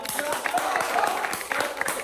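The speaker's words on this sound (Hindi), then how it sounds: "यार ताली बजाओ यार" An audience claps on a comedy game-show set, a steady patter of applause running through the whole stretch under loud talking voices.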